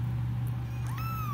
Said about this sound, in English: the kittens are having a little difficulty eating